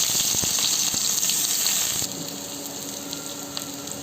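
Garlic cloves and onions sizzle in hot oil, a steady loud frying hiss that drops slightly in level about halfway through and continues evenly to the end, with no talking.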